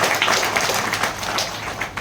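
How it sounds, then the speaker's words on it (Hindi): Steady applause from a seminar audience clapping for the gurus, a dense even wash of many hands sustained throughout at moderate distance. "सभी गुरुओं के लिए एक बार जबरदस्त ताली बजा दीजिए"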